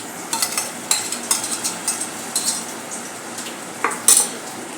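A ground masala paste hits a pan of peas and spinach for palak matar bhaji, sizzling softly while a spoon scrapes and clinks against the pan in a string of short strokes, with no talk.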